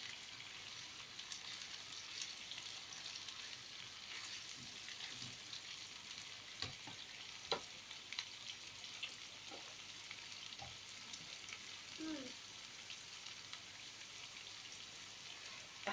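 Chopped onion and garlic sautéing in a pan for a casserole, a quiet, steady crackle and sizzle with occasional soft stirring taps, heard alone.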